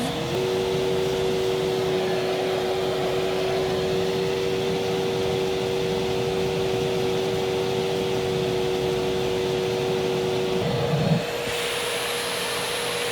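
A Vortech Force XR3000 vacuum runs with its nozzle off, giving a loud, steady motor drone with a constant tone for about eleven seconds before it cuts out, leaving a quieter hum.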